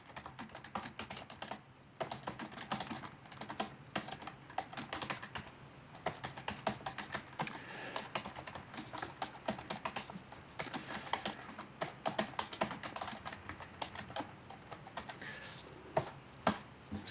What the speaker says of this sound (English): See, Mitch, you're not the only one who has problems typing today.